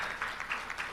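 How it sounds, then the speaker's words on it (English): An audience at a democracy leaders' conference in Tanzania applauds, a steady wash of clapping that fills the room and holds level throughout. "Can we clap and acknowledge?"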